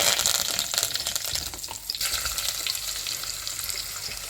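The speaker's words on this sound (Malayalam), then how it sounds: "ചുമന്നുള്ളിയും പച്ചമുളകും കൂടി ഇട്ട് നമുക്കത് നന്നായിട്ട് വഴറ്റിയെടുക്കാം" Shallots, green chilies and curry leaves sautéing in hot oil for a homestyle prawn theeyal, giving a steady, close sizzling hiss with faint stirring throughout and no voices.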